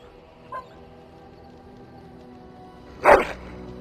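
A dog in the game Dragon Age Origins gives a single sharp bark over quiet ambient background, preceded by a faint short yip.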